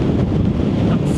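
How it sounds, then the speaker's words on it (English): Strong wind buffets the microphone on an exposed Lake District fell, a loud, roaring rush that fills the whole short moment with no speech. "so you can see how windy it is"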